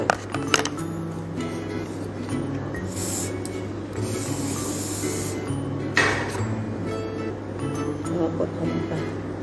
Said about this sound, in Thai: แก้ปัญหาก็คือต้องใช้สเปรย์